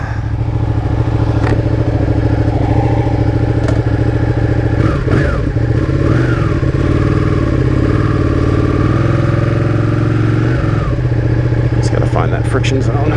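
Ducati 959 Panigale motorcycle engine running close by in a steady, throbbing mid-pitched rumble with light mechanical clatter, a rider's voice talking over it throughout.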